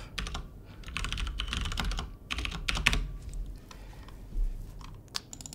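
A PIN is tapped in on a computer keyboard, a run of quick, light keystrokes in irregular bursts at close range, fairly quiet with no voice over it.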